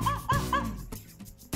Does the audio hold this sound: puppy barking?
yes